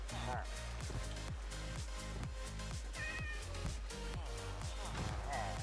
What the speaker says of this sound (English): I love the way that the cat's decided to get out here as well.